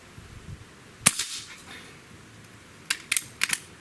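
An AEA SF select fire air rifle fires a sharp, close crack, followed by a quieter cluster of clicks and snaps from handling the gun, with no talk.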